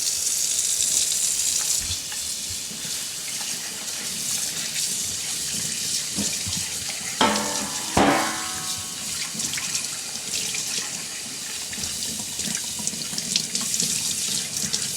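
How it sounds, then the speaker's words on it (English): Water runs steadily from a kitchen sink faucet as raw pork chops are rinsed off before smothering, a continuous close hiss broken by a couple of louder splashing bursts midway. "So I go over here, rinse them off."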